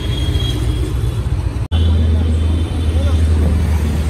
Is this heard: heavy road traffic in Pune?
yes